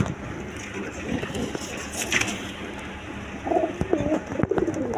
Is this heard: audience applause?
no